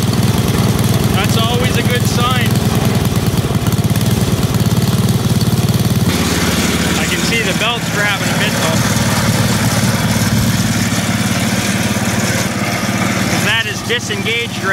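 A Canadiana snowblower's small gasoline engine runs loud and steady at close range after being started on full choke, its rough idle throbbing throughout while a voice speaks over it now and then.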